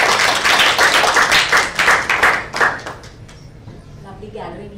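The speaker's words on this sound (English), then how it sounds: "A round of applause." An audience at a talk on pitching and creativity bursts into brisk, close applause that tapers off over a few seconds. A voice begins speaking as the clapping fades.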